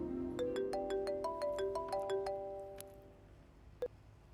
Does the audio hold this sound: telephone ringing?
yes